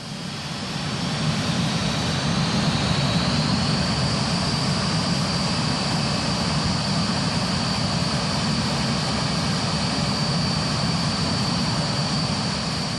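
A loud, steady roar of an aircraft engine during a run-up, building to full power and holding there, a dense droning rumble with a high whine above it.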